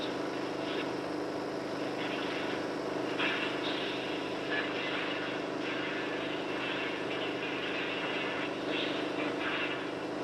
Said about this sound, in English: As it is drawn, the tube passes through a circular air jet which removes the excess zinc.